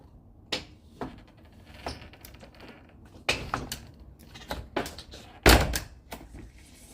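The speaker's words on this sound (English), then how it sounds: "One smooth sliding door." A glass sliding door running along a newly installed track, with several separate knocks and thuds spread unevenly across the stretch, one sharper and louder near the end, heard up close in a quiet room.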